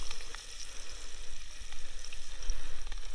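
Special frying cheese sizzles in a pan over a campfire cook-up beside the Wimmera River in Dimboola, Victoria, with a steady close crackle and pops and no talking.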